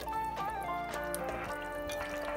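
Spicy Chinese hot pot ingredients bubble in boiling water as they are stirred, a busy close liquid churning with drips and sloshes and no talking.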